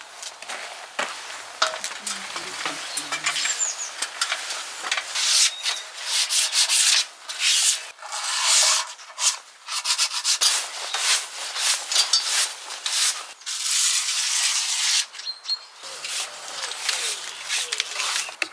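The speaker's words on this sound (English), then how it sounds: "So just a light rub down, quick dust down, and then we'll get a coat of paint on there." A rendered wall is lightly sanded by hand before painting, with continuous rhythmic scratchy rubbing strokes close to the microphone, broken by short pauses across the whole stretch.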